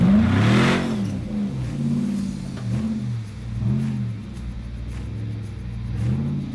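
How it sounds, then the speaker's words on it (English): Off-road vehicle with a supercharged minivan engine at an off-road park, revving repeatedly in rising and falling surges, loud and close with rough rumble and no talk. "I got a minivan motor with a supercharger on it"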